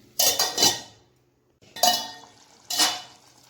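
A metal lid is set onto a pot of potato curry in three quick clattering bursts, close and moderately loud, with short gaps of quiet between them.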